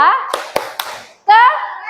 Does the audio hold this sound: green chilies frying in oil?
no